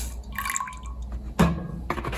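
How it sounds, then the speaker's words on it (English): Regular cow's milk pours into a pot for Jamaican chocolate tea, with close drips and a sudden splashing gush midway, then quieter liquid sounds. "And then I'm gonna use some regular cow's milk"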